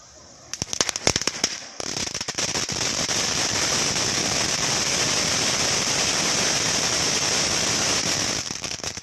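Sivakasi sky shot Diwali fireworks go off in a loud, dense, continuous crackle after a few sharp opening pops, sustained for several seconds close by.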